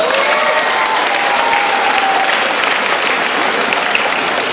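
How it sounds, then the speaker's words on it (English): A crowd at a sea life seal show claps loudly and continuously, a thick, close wall of applause with a faint whistle-like tone threading through it. "You guys give her a big round of applause."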